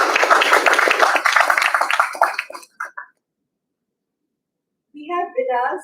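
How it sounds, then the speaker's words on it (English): Audience applause at a book launch for a birdwatching book, a burst of clapping lasting about two and a half seconds that quickly fades, followed by silence and then a speaking voice. "A round of applause."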